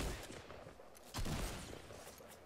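Shotgun blasts in the Fortnite battle royale video game, one loud burst near the middle standing out against dense, continuous game noise and scattered gunfire-like crackle, with no talking.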